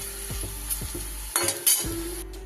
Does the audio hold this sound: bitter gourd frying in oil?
yes